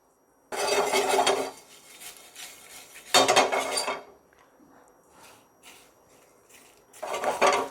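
Sesame and poppy seeds drop into whole spices in a pan and are stirred, giving two loud scraping, rattling bursts with a softer clatter between and a third burst at the end, close and without talk.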